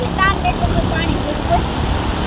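Water spilling over a dam makes a loud, continuous rush that fills the whole clip. A voice speaks over the roar.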